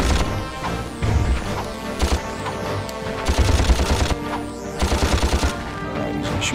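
Rapid, loud bursts of weapon fire and fireball blasts from the Ratchet & Clank video game come in clustered volleys with short gaps, with layered impacts and game effects throughout.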